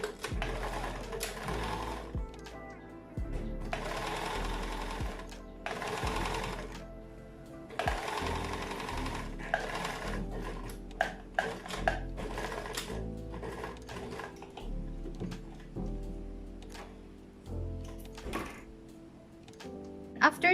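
A sewing machine stitches a folded fabric hem on a thrifted summer set, running in steady bursts with brief pauses and thumps for about twenty seconds, close and loud.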